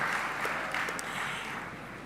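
An audience at a university academic opening ceremony claps for the Vice Chancellor, a continuous wash of moderately distant applause with no speech over it.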